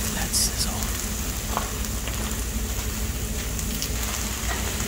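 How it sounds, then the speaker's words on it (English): Food sizzling on a CNC plasma-cut fajita cooker, a steady broadband hiss running through the whole stretch, with faint voices and clinks in the background. "Listen to that sizzle."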